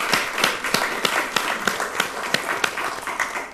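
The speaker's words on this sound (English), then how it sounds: "Please give him a round of applause." A studio audience applauds a guest, a husband in the studio, with rhythmic broadband claps over a steady wash of clapping; some scattered voices sit underneath.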